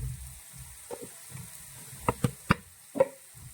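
Chili powder sizzling briefly in hot oil for a papaya pickle, with soft crackles and a few sharper spits and stirring taps close by, no voices.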